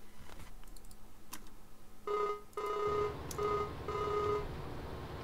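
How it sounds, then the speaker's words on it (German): Telephone ringing during a call in the farming game Landwirtschafts-Simulator 19: a few clean electronic ring tones repeating in short bursts, fairly quiet, over faint background noise and clicks. "Ich muss mal telefonieren."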